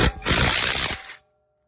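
A SILVEL brushless 1/2-inch cordless impact wrench (650 N·m) spins off car lug nuts in one short, loud, rattling hammering burst of about a second, then cuts to silence.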